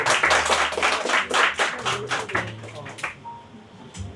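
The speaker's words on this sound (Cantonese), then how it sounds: "我哋俾啲掌聲歡迎下佢哋啦" Audience applause at a young entrepreneurs' award event greeting the next guests, a dense burst of many hands clapping that fades after about three seconds, with faint voices murmuring underneath.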